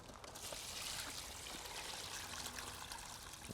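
Water is poured out of a container carrying floating tree seeds and chaff, producing a soft, steady trickling wash that runs continuously at low volume without speech.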